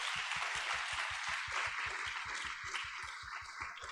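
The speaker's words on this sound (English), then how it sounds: "Can everyone please give all the staff and volunteers of the foundation a huge round of applause?" Audience applause for foundation staff and volunteers at a Taipei salon talk, a steady rapid patter of many hands clapping throughout, fairly close and even in loudness.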